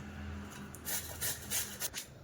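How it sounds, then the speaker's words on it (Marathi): Fresh turmeric root grated by hand for pickle, several soft raspy rubbing strokes in an uneven rhythm, close up, with a low steady hum underneath. "आता आपण सगळी हळद किसून घेऊया।"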